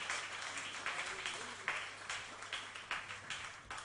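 A church congregation claps in steady rhythmic applause, fairly faint and distant, blended with room noise.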